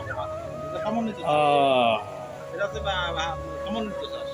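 Chickens cluck on a raised bamboo platform built over a fish pond. Several short clucks and a louder, drawn-out call sound close by, with a voice speaking nearby.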